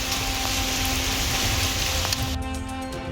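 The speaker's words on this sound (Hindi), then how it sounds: "भाई क्या ही वेलकम हुआ है, ओले गिर रहे हैं।" Hail pelts a parking lot in Amritsar beside a parked motorbike, a dense steady patter of icy pellets hammering the ground, close and loud throughout with no voices.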